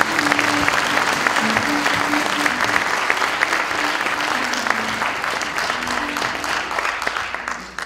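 Sustained, dense applause from a seated audience at the 2014 opening ceremony of a software policy research institute, loud and steady throughout the clip.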